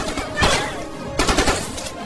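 Gunfire crackling during military training, two loud bursts of rapid shots about three-quarters of a second apart, close and harsh, with no voices over them.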